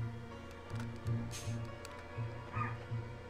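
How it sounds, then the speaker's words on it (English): A dog barking inside a house, a series of short, low, muffled barks repeating at an uneven rhythm, heard at moderate distance against a quiet indoor background. "we have a dog in the house, and he's barking right now"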